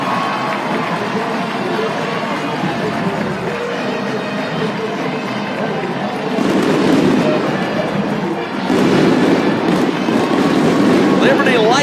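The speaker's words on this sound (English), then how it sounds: "Liberty lights off the fireworks, and why not?" Fireworks go off at a college football stadium after Liberty's upset win over Troy, with loud bursts and crackle swelling over a roaring, cheering crowd.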